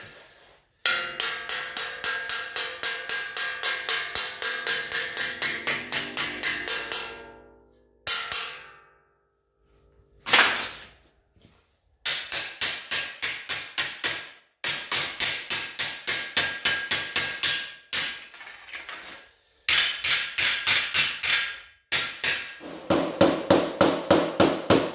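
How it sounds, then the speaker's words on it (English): Repeated hammer blows shaping a rusty car trunk lid held in a vise, loud rapid metallic strikes in bursts with short pauses between runs. "I'm going to take something and hammer down into that and use the vise to do it."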